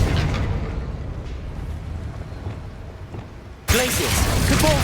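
A Confringo blasting spell explodes in Hogwarts Legacy, a sudden loud burst that cuts in sharply near the end after a muffled rumbling stretch of combat and keeps going bright and crackling.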